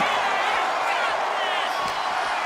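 Crowd noise from a WWE 2K25 wrestling match plays as a dense, steady roar of cheering that fills the whole stretch without letting up.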